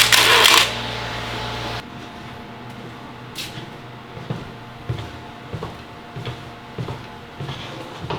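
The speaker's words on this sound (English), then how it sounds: "will you hit the shutter carefully?" A film camera shutter is released while shooting interiors on 120 and 135 film. A loud burst opens the recording, followed by a string of soft, close mechanical clicks and handling taps.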